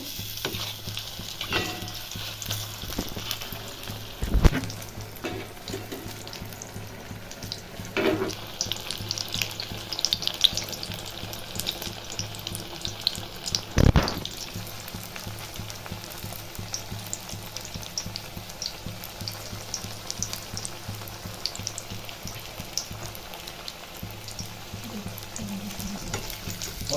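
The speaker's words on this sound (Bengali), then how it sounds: "উল্টে পাল্টে ভালো করে ভেজে নিতে হবে" Bean and tomato chops fry in oil and are turned over, producing a continuous close sizzle with occasional clatters and scrapes of a utensil against the pan.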